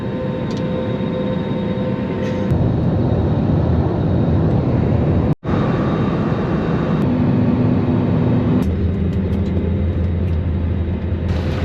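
Jet airliner engines roar loudly and steadily at Muscat International Airport in Oman, with a taxiing plane following another aircraft on takeoff; the rumble holds throughout with one brief dropout midway.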